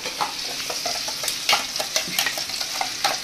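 Spice paste sizzling and spluttering in hot oil in a home kitchen, with steady crackling frying and occasional stirring scrapes, close and moderately loud, no talking.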